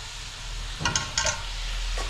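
Goat intestine and lung pieces going into a hot pan for curry, a steady sizzle with a couple of brief stirring scrapes, close and moderately loud.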